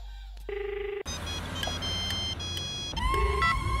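Short electronic telephone tones beep in sequence, like a number being dialed, followed by a steady hum and more beeping tones.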